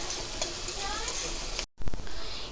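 Chopped garlic and ginger fry in hot oil for an egg dish, giving a dense, loud sizzle that cuts out briefly, then returns with a few quick stirring knocks.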